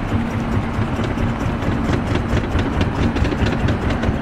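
Deep, steady rumble of a cargo boat's engine on a Mekong Delta river as it speeds up with its large propeller engaged, a loud continuous droning churn with no voices.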